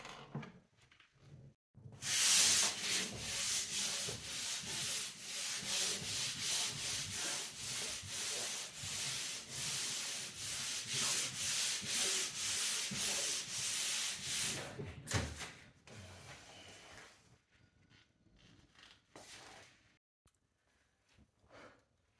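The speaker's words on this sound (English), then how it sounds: "I really don't feel like sanding down, but it needs a quick rough back" Steady hand sanding of pine furniture, a continuous rasping scrape in rhythmic back-and-forth strokes, close up, running for most of the clip before trailing off.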